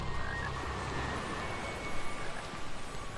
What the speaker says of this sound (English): Hey, Chocolate Frog.